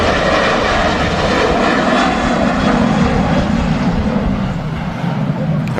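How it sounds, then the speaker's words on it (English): A Jet2 airliner taking off from Manchester Airport, bound for Heraklion, with a loud, steady engine roar and broadband rumble that stays constant throughout. "Jet 2 off to Heraklion,"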